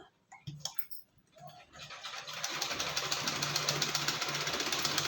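Sewing machine stitching piping on a garment, starting after a few clicks and short bursts, then running in a steady rapid mechanical rattle that grows louder and holds to the end, close up.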